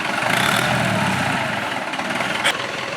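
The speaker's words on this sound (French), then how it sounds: "Et le tracteur est toujours là allumé." A tractor engine left running outdoors idles with a steady, loud, rumbling drone that holds unchanged throughout, with no other sounds standing out.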